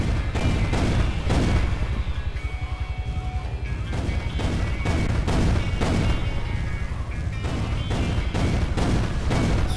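Dense, rapid gunfire and booming shots from a helicopter pound continuously at high volume in GTA Vice City Stories, a relentless barrage of video-game combat with no talking.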